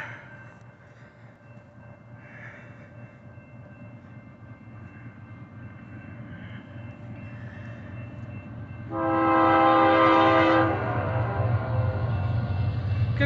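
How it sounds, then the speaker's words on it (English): A BNSF freight train led by locomotive 4040 rumbles closer, growing louder, then a loud air horn blasts for about two seconds as the rumble continues. "we have a BNSF train coming"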